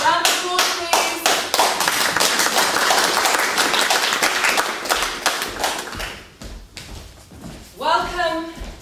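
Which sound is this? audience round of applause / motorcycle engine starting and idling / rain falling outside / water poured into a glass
audience round of applause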